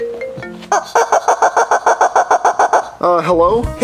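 A chicken lets out a rapid burst of about a dozen loud, evenly spaced clucks close by, followed by a voice speaking.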